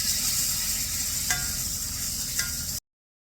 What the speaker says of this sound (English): In they go, just a few minutes on each side, and then he's going to set it to the side once they're seared off